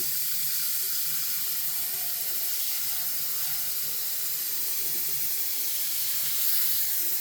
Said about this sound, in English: you want to make sure you add water, cold water, so it can cool off